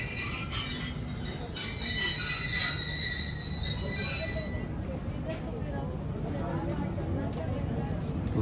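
A Hazara Express passenger train slows to a stop at a station, with high-pitched wheel squeal and brake screech fading after a few seconds into a low rumble of the halted carriages.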